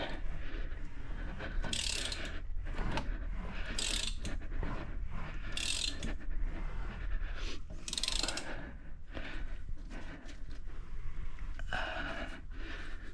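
A pulley on a 2018 Chevrolet Camaro ZL1 is turned by hand to seat a new AC belt, giving repeated ratcheting clicks and mechanical creaks in uneven bursts, close up and fairly quiet.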